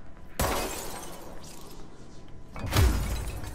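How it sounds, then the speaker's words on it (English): Glass shatters twice inside the game Control, first a sharp crash, then a second louder smash with a heavy low thud and tinkling debris, with no talk. "smash that glass up there"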